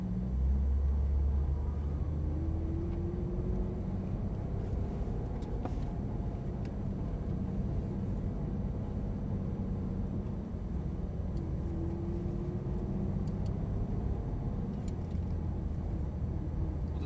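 Low engine rumble from a Porsche GT3 pulling away under light throttle on a Las Vegas track, heard from inside the car as a steady drone with a couple of faint rising tones.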